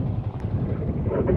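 Strong mountain wind buffeting a microphone near a landslide site in Calanasan, Apayao: a low, rumbling, gusty roar that fills the whole short stretch, moderately loud and unbroken.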